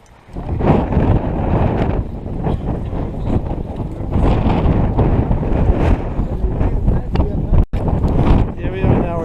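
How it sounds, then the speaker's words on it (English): Strong, gusting wind buffets the microphone on a trek in Patagonia, a loud continuous roar with surging bursts throughout, and voices faintly audible beneath it. "Lots of wind."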